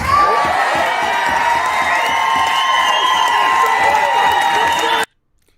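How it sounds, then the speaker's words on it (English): A political rally crowd roars with cheering, whoops and shouts over applause, a loud dense wall of voices that cuts off abruptly. "just listen to that applause. The people went crazy."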